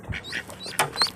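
Newly hatched duckling peeping in a few short, high chirps close by, with faint background noise between calls.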